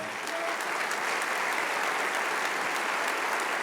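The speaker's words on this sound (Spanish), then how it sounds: "Le damos un aplauso al Señor." Church congregation applauding during a sermon, a steady wash of many hands clapping continuously at even volume, fairly distant and filling the hall.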